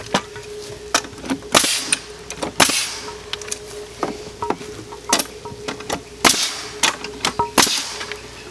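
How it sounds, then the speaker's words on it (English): Nails are driven into the boards of a wooden side planter, a series of sharp, irregular nail-gun-like cracks and clacks spaced a fraction of a second apart, close and loud. "Push them down, throw your couple nails in there."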